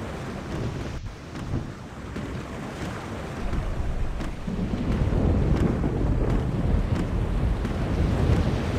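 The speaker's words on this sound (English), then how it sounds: "A storm approaches, April, and it is no ordinary storm." A storm at sea in The Longest Journey brings a rolling roar of wind and surging waves, growing louder midway, with faint crackling bursts like distant thunder and no speech.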